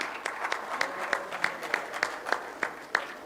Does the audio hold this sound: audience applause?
yes